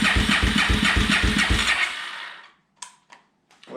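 Kawasaki KFX400 ATV engine cranking at wide open throttle, a loud rapid rhythmic chugging for about two seconds that winds down and stops, followed by a few faint clicks and knocks.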